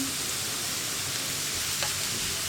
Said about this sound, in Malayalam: ഇനി നമ്മുടെ സവോള ഒന്ന് കുക്കായി വരട്ടെ